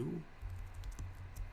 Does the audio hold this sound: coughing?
no